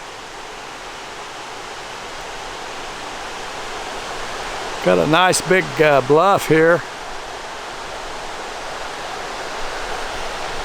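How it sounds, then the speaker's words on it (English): Water pouring over a 1930s dam on Missouri's North Fork River, heard from just below as a steady broadband rush, with someone speaking briefly over it midway. "You can hear the water coming over."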